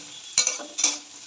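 Chopped chillies fry in a pan with a steady low sizzle, broken by two quick stirring scrapes close by.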